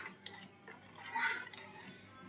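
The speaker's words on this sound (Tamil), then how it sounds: "அதனால இப்படி கிண்டிக்கிட்டே இருக்கணும்." Boiling milk stirred in a pot while making homemade ice cream: faint clinks and scrapes of a utensil against the metal pot, quiet and close, with a soft bubbling wash underneath.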